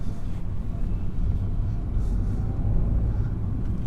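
A 2013 Renault Clio with a 0.9 litre engine drives along, giving a steady, low engine drone and road rumble from inside the cabin with no talking.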